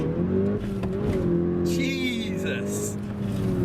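A stage 1 tuned Audi S1 on its standard clutch launches hard and pulls through the revs, the loud engine note climbing steadily from inside the cabin while people talk over it.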